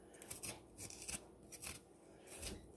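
A spoon scraping peel off produce in short, rough strokes, several distinct scrapes in an uneven rhythm, close and soft with no talk.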